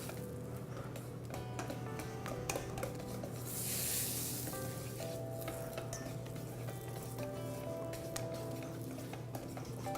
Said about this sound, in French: On va le verser en mélangeant notre mixture pour ne pas cuire la pâte à crêpes.